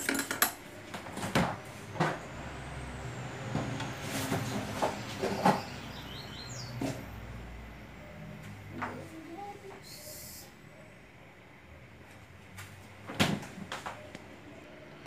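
Someone rummages through kitchen containers in search of a salt bowl, with irregular clatters of pots, dishes and cutlery, some sharp knocks, and quieter shuffling in between.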